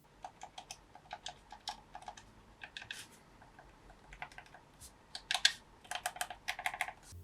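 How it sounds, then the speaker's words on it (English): Small plastic buttons on a GameSir T7 Xbox/PC controller are pressed again and again, giving quiet, crisp clicks in irregular quick runs, close up and with no voices. "let's have a listen to the clickiness of the buttons"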